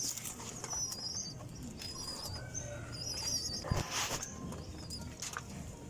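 Pigeons coo in a breeders' loft, soft and steady with repeated low calls, brief chirps and a flutter of wings nearby.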